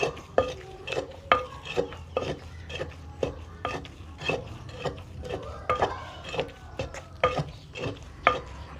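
Thai fish cake paste kneaded and slapped by hand, giving a steady series of soft wet slaps and squelches at close range, roughly one every half second, with no talking.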